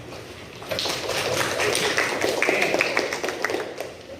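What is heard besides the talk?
group clapping hands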